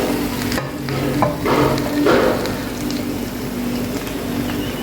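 BBQ chicken tikka sizzles in a pan over a low flame, a steady close frying hiss broken by a few scraping, stirring sounds, with no voices.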